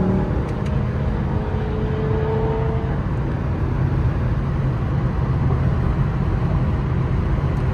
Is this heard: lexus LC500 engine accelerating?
yes